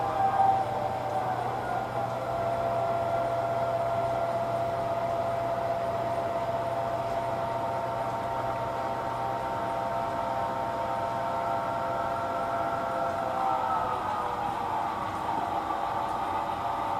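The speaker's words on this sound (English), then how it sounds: "Next, we'll shove into these 2 elevator tracks and pick up the 4 loaded covered hoppers." A switching locomotive shoves cars into grain elevator tracks to pick up four loaded covered hoppers, giving a steady, continuous mechanical drone with a sustained tonal whine, no voices.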